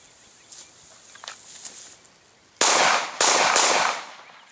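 Pistol shots ring out during a moving and drawing shooting drill at balloon targets, with two or three sharp loud cracks close together after quieter handling sounds outdoors.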